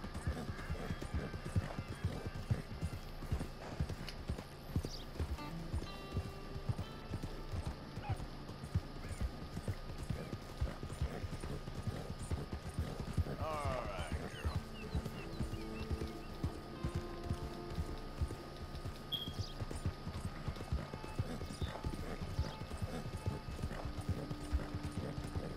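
Horse hooves clip-clop steadily in Red Dead Redemption 2, a fast, even rhythm of hoofbeats that runs throughout at moderate loudness, with a brief whinny partway through.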